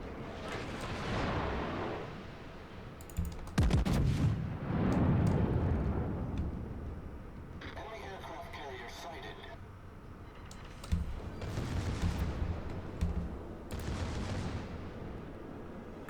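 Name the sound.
warship secondary guns firing in video game World of Warships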